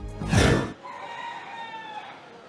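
An imported game fowl rooster, one of hundreds boxed at an airport terminal, gives a single loud, close crow, followed by fainter background crowing and clucking.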